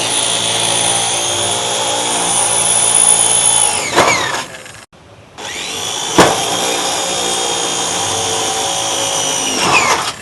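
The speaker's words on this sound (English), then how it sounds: "he can drill 2 holes through here" A power drill whines steadily, bores through the plank of an aluminium truck tray, pauses briefly, then whirs through a second hole, loud and close with no talking.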